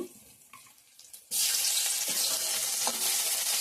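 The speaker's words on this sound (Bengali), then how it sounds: "তো এখানে ফোড়ন দিয়ে দিছি তেজপাতা পেঁয়াজ সাদা জিরা একটু আদা দিয়ে দেবো" Bay leaf, onion, cumin seeds and ginger hit hot oil for a Bengali tempering, a sudden loud hissing sizzle that bursts in after a quiet moment and holds steady, close by.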